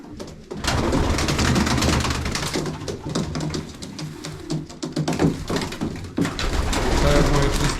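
Racing pigeons coo softly and repeatedly amid rustling, flapping and scattered tapping sounds, with a few faint background noises.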